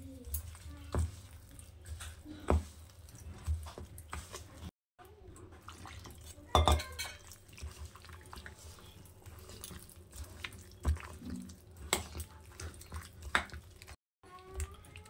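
Mashed bananas being worked together with warm milk in a bowl for a malpua (teler pithe) batter, giving soft, wet squelching and dripping sounds in irregular bursts. The sounds are quiet and close, with a few brief pauses.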